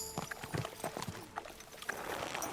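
Horse hooves clip-clop at a walk in Kingdom Come Deliverance II, a steady run of soft, close hoofbeats over a faint ambient background, with no talking.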